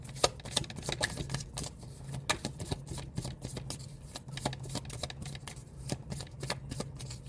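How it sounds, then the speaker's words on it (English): A Rumi Oracle card deck is shuffled by hand in quick, crisp riffles and flicks, close and fairly quiet, with a low hum underneath. "I'm gonna pull one more oracle card from the Rumi Oracle deck"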